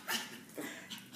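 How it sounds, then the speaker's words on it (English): An apricot poodle puppy gives a few short, high yips in quick succession, fairly close and light, with no one speaking over them. "little Lollipop's barking."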